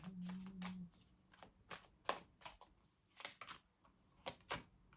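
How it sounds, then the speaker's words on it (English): A tarot reader shuffles a deck of tarot cards in several quick, close riffling bursts separated by short pauses, with a brief hum at the start. "I'm going to have to shuffle again"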